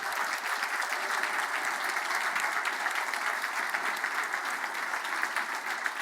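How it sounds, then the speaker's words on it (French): Banquet audience clapping for a couple receiving the Ordre de la francophonie award, a dense, sustained round of applause from a large crowd at steady volume throughout, with no talk over it. "On les applaudit!"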